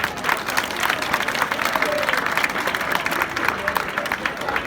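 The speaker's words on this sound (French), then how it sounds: "je souhaite que vous applaudissiez très fort pour les équipes" Crowd applause for school football teams from the Koungheul department in Senegal, a dense steady clatter of many hands at an outdoor event, with a voice speaking over it.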